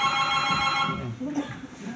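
Telephone ringing on stage during a live French theatre comedy: a steady, bright ringing tone fills the first second, then fades as a voice begins speaking over the room.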